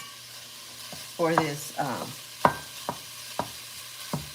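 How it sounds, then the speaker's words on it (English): Pork sausage renders and sizzles in a pan under a faint, constant crackle, broken by a few scraping stirs and then a string of sharp utensil taps at a steady pace. "While rendering the pork sausage"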